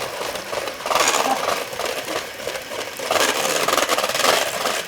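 A hand mixer whirs steadily while creaming butter and sugar in a bowl, a continuous buzzing drone with the beaters scraping and rubbing; it swells louder partway through and stays close and prominent, with no talking.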